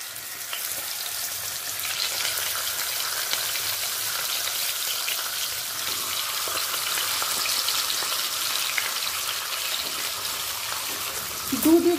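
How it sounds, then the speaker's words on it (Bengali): Salted, turmeric-rubbed bata fish frying in mustard oil for a Bengali dish, a steady bright hiss of hot oil throughout with faint crackle, no speech, and a brief clatter at the very end. "সর্ষের তেলেতে ভেজে নেব।"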